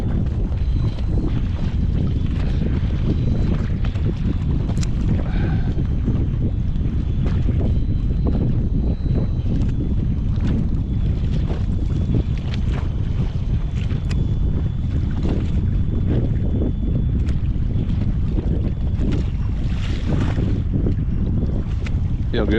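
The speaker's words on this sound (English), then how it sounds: "Feels like the second we got here, the wind just cranked up" Strong, cold wind batters a fishing boat out on the water, a loud, constant buffeting rush with gusty bursts against the microphone, continuing for the whole stretch with no break.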